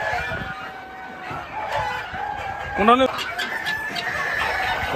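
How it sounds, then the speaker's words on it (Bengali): Native chickens at a poultry market cluck steadily, and one bird lets out a rising crow-like call near the middle, with faint market chatter in the background. "এই যে এখানে আছে দেশি মুরগি, সব হচ্ছে এগুলো দেশি মুরগি।"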